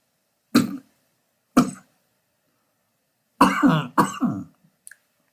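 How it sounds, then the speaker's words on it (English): Four close, sharp coughs: two single ones spaced apart, then two more in quick succession, with silence between them and no talking. "Sorry about the cough, sneeze."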